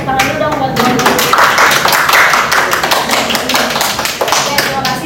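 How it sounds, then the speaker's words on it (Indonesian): A classroom group claps in a dense burst of applause lasting a few seconds, loud and close, with voices talking over it. "Tepuk tangan dulu dong buat nomor 2"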